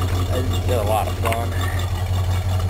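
A Rambler American 330 engine runs after its first crank of the season, a low, steady idle rumble holding throughout while someone talks briefly over it.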